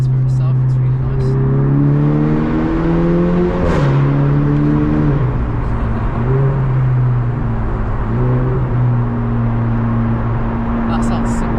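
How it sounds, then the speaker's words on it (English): A Seat Ibiza Cupra Bocanegra drones steadily from the cabin as it accelerates, engine tone climbing through gear shifts in a low hum, with people talking over it. "as you guys can hear, it sounds really nice, the exhaust"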